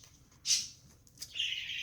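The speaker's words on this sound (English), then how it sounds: "My birds are singing." Pet birds chirp indoors, a couple of short, bright tweets and a quick trill over a faint low background hum.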